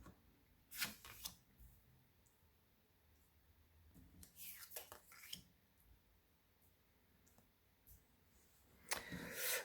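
Tarot cards being shuffled and drawn, close and quiet: a few short bursts of riffling and sliding card sounds separated by soft pauses, with faint whispering in the background.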